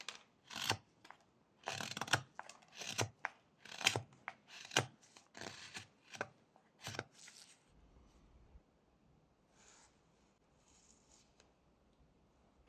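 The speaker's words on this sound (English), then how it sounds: "And then this can be cut with push cuts." Whittling knife making push cuts through a small block of wood for a carved head, a run of sharp, crisp shaving scrapes in quick irregular bursts close up, then trailing off into quiet after about eight seconds.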